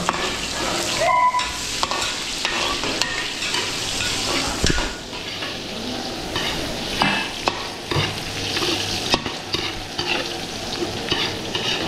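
Pancit noodles with garlic are stir-fried in a large batch for a big event, a loud, dense sizzle with constant scraping and tossing close by and occasional metal clinks.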